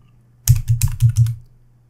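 Quick keystrokes on a computer keyboard while a name is typed into a spreadsheet, about six close, crisp taps in a fast run, alone and clear.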